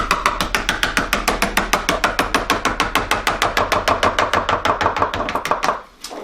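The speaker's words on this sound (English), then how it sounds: "you want to grab a pizza cutter, and I like to use the butt of it like this" Rapid, steady tapping as the butt of a pizza cutter presses down the crust edge of a Philly cheesesteak pizza, about thirty sharp knocks in a fast even rhythm, close and loud, stopping abruptly at the end.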